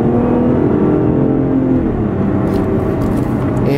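Cabin sound of a 2013 Lotus Evora S mid-engine car on 19- and 20-inch Pirelli P Zero tires, a loud, steady engine drone with road roar that holds constant through turns.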